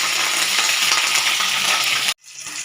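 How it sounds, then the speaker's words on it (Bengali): Pieces of rohu fish fry in hot mustard oil with a dense, steady crackling sizzle that cuts off abruptly, then resumes more faintly. "তো আমি সব মাছগুলোই কিন্তু এরকম করে ভেজে নেব।"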